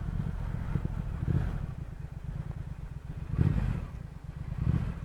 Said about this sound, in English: Oh, that exhaust sounds really nice. It's just throbbing away. It's popping when you're downshifting.